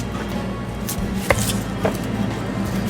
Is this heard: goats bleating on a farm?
no